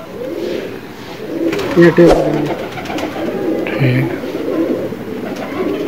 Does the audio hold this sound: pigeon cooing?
yes